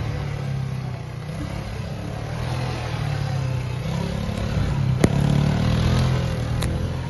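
A quad bike engine drones steadily up close with a low, even hum throughout. There are slight throttle swells and a few faint clicks.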